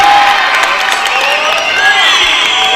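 A home crowd at a high school girls' varsity basketball game erupts in loud, sustained cheering and shouting after a three-pointer, with a dense roar filling the gym throughout.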